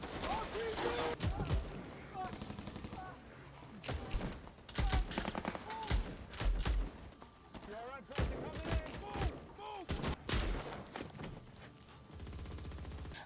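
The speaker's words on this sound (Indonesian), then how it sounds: "Tak lama, baku tembak berlangsung." Film gunfight with heavy gunfire: dense bursts of rapid shots and single cracks in irregular volleys, loud and close, with voices speaking between and under the shooting.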